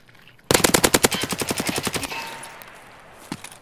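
Sustained burst of automatic gunfire in the video game Escape from Tarkov, a loud rapid string of about fifteen shots over a second and a half, then a fading echo and one faint distant thump, with no talk.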